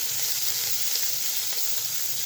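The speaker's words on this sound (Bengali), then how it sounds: "তো এই তেলের মধ্যে দিয়ে দেবো আমি রসুন কুচি আর পেঁয়াজ কুচি। ভালোভাবে নেড়ে চেড়ে নিই।" Chopped garlic and onion fry in hot oil with a dense, even sizzle while being stirred, giving light scraping accents over the hiss; no one speaks.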